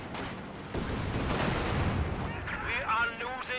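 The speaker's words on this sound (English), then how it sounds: "Looks like a Katusha barrage in the centre to stop the decap." In Company of Heroes 2, a Katyusha rocket barrage crashes down on the centre of the map as a rumbling, rapid volley of impacts and blasts. Excited commentary runs over the top of it.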